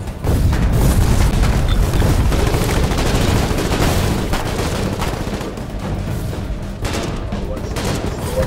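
Dense, continuous gunfire and booming blasts from a tank battle in the war game Foxhole, loud and relentless throughout with a voice faintly underneath.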